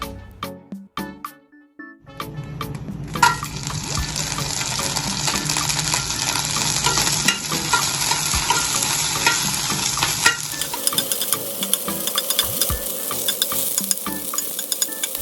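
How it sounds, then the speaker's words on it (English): Red chillies drop into hot coconut oil and burst into a loud, steady sizzle, with occasional stirring clinks over a constant crackling fry. "Next add the red chilli when the oil heats."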